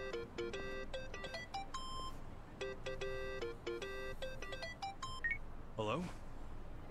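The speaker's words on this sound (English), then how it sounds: "Me encanta el ringtone, tío." A phone ringtone in the video game Yakuza: Like a Dragon plays a bright electronic melody of rapid beeping tones in repeated bursts, steady and fairly loud, ending with a short swoop.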